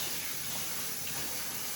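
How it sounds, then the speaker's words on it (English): Tap water runs steadily into a sink for rinsing a batch of vegetables, a faint, even hiss and gush with no breaks and no voices. "now I have my water running from the next batch"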